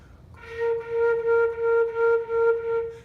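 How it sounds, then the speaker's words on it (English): A flute holds one note broken into six separate swelling pulses, each attack a soft, throaty glottal articulation rather than crisply tongued, played close and clear. "You don't want to have a goo, goo, goo, goo, like a glottal sound."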